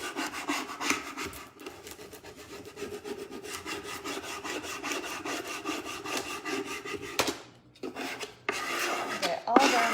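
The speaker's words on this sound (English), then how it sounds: "I'm going to take my little squeegee thing again because I want it now to adhere really well" A small squeegee rubs back and forth over a vinyl stencil to press it onto a toolbox, giving continuous close scraping strokes with brief pauses near the end.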